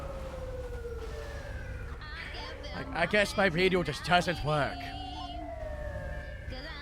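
An ambulance siren in a video game wails in rising and falling sweeps under ongoing conversation, swelling louder for a moment midway before fading back.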